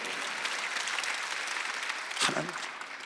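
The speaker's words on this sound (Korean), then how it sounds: "박수 한번 하세요" A church congregation at a Sunday worship service claps together in a dense, continuous round that sounds somewhat distant. A brief louder burst rises near the end.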